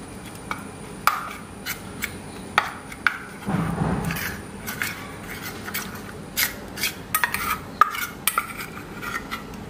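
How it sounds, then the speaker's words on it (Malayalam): A spoon stirs a honey and green gram face pack in a small bowl, giving irregular light scrapes and clinks, with a brief rubbing mix around the middle, close and fairly quiet. "നന്നായിട്ട് മിക്സ് ചെയ്യാം."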